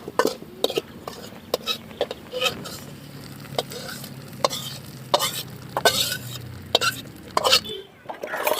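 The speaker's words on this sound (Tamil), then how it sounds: "நல்லா செவக்க வறுத்து எடுத்து ஊற்றிக்கலாம்" A tempering for coconut chutney fries in oil until reddened, giving a steady sizzle broken by repeated sharp clinks of a spoon against the pan and a low hum underneath, close by.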